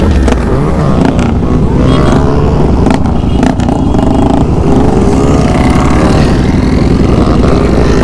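A motorcycle engine revs hard and loud during a wheelie stunt at a grau event, a continuous roar rising and falling in pitch over nearly eight seconds with crowd noise around it.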